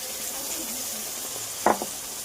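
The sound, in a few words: spice paste sizzling with fried onions for chicken curry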